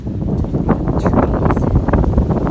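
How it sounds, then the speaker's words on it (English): Gusty cold wind on a mountain hiking trail buffets the microphone with loud, rumbling low roar and fluttering bursts, continuous and close throughout. "But it is windy and cold."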